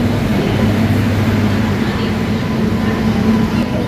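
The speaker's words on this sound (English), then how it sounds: "That is my train." Steady loud rumble of a train at a Mumbai station on the Mumbai to Bangalore route, a continuous low drone with constant engine-like hum throughout and no clear talk.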